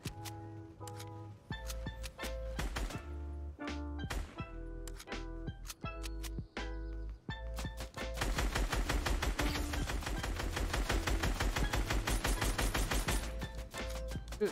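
Gunfire in the Fortnite video game, with scattered single shots and short bursts leading into a long, loud, rapid stream of automatic fire, with no talk over it.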